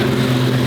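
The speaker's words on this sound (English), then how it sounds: "It up revs when you put it in Corsa." A carbon McLaren Senna's engine is revving in Corsa race mode, a loud, steady, sustained drone with strong low harmonics, close and continuous, with no voices.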